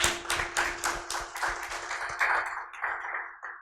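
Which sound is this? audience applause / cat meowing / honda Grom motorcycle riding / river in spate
audience applause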